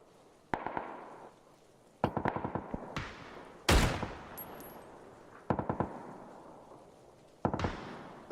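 Gunfire from players fighting in PUBG, heard as several short bursts of rapid shots spaced a second or two apart, crisp and fairly distant, with one louder burst in the middle.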